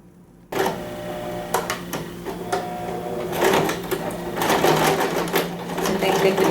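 A sewing machine stitches a bag lining in short bursts after a brief quiet start, its rapid needle clatter growing denser and steadier toward the end, close by with a voice speaking over it.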